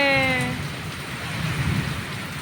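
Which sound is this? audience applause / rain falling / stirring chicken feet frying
rain falling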